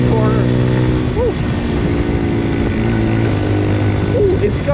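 A Papio SS mini-moto engine revving hard at full throttle into a corner, a loud continuous buzzing drone with pitch rising and falling as it shifts, recorded up close while a rider's voice comes through over it.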